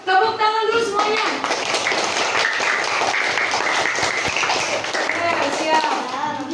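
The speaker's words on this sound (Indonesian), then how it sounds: "Tepuk tangan dulu semuanya." Third-grade schoolchildren clap their hands together in a classroom, a dense, lively burst of clapping lasting several seconds, with children's voices mixed in.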